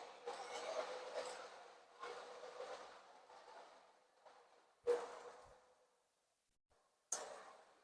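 A Williams ALCO PA model train runs at quarter throttle, its motor whirring in long, fairly quiet rising and falling stretches, with a few sharper clicks and a near-silent gap.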